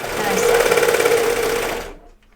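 A sewing machine runs steadily while stitching stretched fabric for a pair of Hudson pants, a close, continuous motor whir lasting about two seconds before stopping abruptly.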